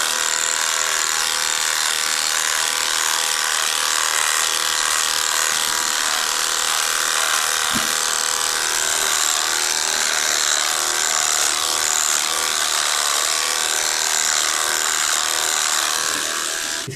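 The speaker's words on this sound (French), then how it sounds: "J'imagine le viewer qui arrive et qui voit Xam en gros plan se raser" A beard shaved with an electric razor, a continuous close buzzing hum that holds steady at high level for the whole stretch, with no talking over it.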